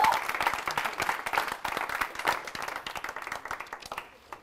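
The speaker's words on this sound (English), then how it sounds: "everybody in the group is just going to meet whatever they say with just ridiculous applause" A small group claps enthusiastically during an engineering design review session, a dense, close burst of hand claps that gradually thins and fades toward the end.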